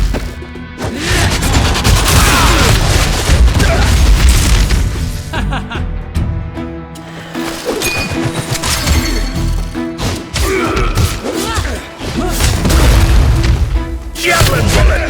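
Javelin bullet attacks in the Absolum action video game, a loud, busy run of booming impacts and crashing hits over layered game music and effects, with voices briefly heard among the noise.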